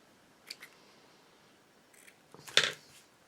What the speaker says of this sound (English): I'm just going to cut the tail